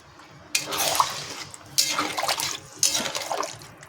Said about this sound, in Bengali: মশলাটা কষে গেছে, দিয়ে দেবো জল